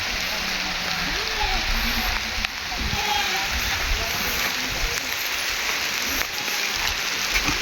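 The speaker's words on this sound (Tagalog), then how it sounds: "Ulan na." Steady rain hissing down on a mountain across the whole stretch, with faint voices and a few bird-like calls mixed into the constant patter.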